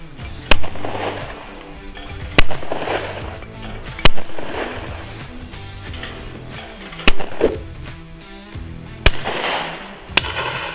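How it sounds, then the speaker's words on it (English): Shotgun shots at clay targets at a shooting ground, with six sharp, loud single reports spaced a couple of seconds apart over outdoor background noise. "So I've just shot a various targets here at Oak Edge."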